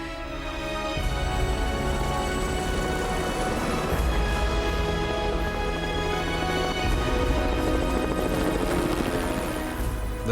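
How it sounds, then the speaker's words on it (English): A helicopter flies close by, its rotor beating in a loud, steady, rhythmic thump that continues unbroken across the whole stretch. "The helicopter rushes Sonja and Marni to safety"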